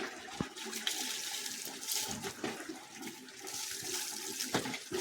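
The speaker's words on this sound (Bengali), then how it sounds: "অনেক দিন হয়ে গেছে ঘন্টুবাবু স্নান" Tap water runs steadily for bathing a pet dog indoors, a continuous splashing stream with small bumps and gurgles, fairly close, with no talking over it.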